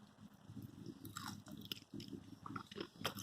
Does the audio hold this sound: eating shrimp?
yes